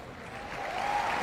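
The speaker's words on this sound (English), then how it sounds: "Oh, you're clapping." Audience at an outdoor Save Soil event in Delhi breaks into applause, a steady wash of clapping that swells slightly toward the end.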